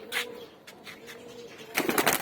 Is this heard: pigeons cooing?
yes